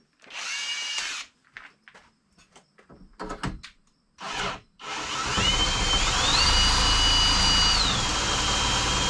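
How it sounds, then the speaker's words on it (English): Power drill driving a homemade inboard motor mounted in a canoe: a few short bursts of whirring, then a sustained loud spin with rising and falling pitch, close by, with no talk. "Let's hook the drill up to it and see what it does quick."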